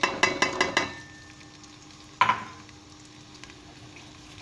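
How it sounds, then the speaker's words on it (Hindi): Onions dropped into hot oil for a chana dal dish, with a few bursts of clatter at the start, then a sharp sizzle onset followed by a steady, quieter frying hiss. "अब हम इसमें प्याज शामिल कर लेंगे।"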